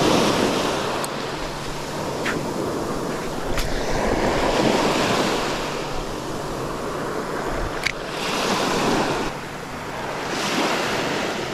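Sea waves break on a rocky shore at Leccia on a September morning as wind buffets the microphone, with a continuous loud surf wash and a few sharp gusts and splashes; no voices.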